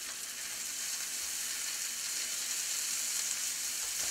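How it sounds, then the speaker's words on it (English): Bratwurst and onions frying in a pan, a steady, even sizzle that holds at a moderate level throughout with no pauses and no voices. "I'm going to once again add the bratwurst back to the pan."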